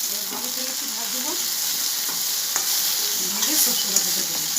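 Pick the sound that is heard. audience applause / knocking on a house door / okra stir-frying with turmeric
okra stir-frying with turmeric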